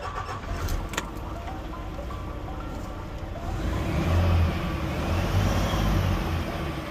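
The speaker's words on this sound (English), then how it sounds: "We start the truck." A DAF XF diesel truck engine cranks and starts, then settles into a steady low idle rumble, close and continuous with no talking.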